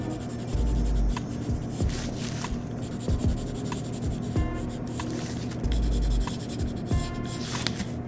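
Charcoal shades dark tones on drawing paper, a close, steady scratchy rubbing with repeated stroke bursts over a constant background hum.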